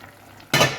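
Chicken blanquette with fresh mushrooms cooking in a pot: after a quiet start, a sudden loud burst of sizzling and bubbling begins and continues steadily, close and with no voices.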